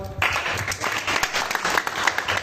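Students in a classroom during a digital gamelan music lesson give a short round of applause for a classmate; a burst of clapping from a small group, uneven and close, lasting a couple of seconds.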